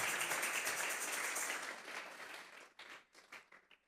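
Church congregation clapping together as an offering of praise, a brisk wash of hand claps that fades after a few seconds into a handful of scattered, trailing claps.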